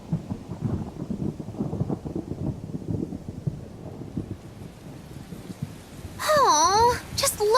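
Rumbling thunder rolls under steady rain in a thunderstorm scene from the video game Tales of Berseria, with low crackling booms throughout before a voice-like tonal sound rises at the end.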